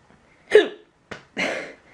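Close, abrupt hiccups from a person, three in quick succession within two seconds, each a sharp gulping catch of breath with no talking.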